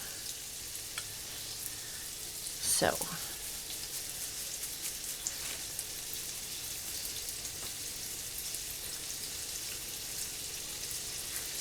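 Salisbury steak patties browning in a pan give a faint, even sizzle throughout, broken once by a brief louder scrape or clatter near the start. No one talks.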